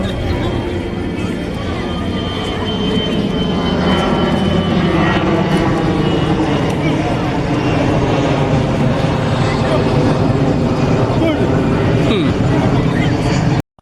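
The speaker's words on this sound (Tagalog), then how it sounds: "may dumaan na aeroplano" An airplane passes overhead outdoors, a loud broad engine roar that fills the whole stretch before cutting off, with voices and crowd babble underneath.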